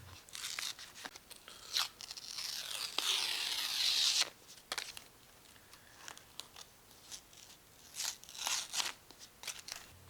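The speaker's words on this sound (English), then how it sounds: "Tear the paper off around the cutout." Paper backing torn away from skateboard grip tape, close and crisp, with a long continuous rip followed by scattered short tearing and crackling bursts, with no talk.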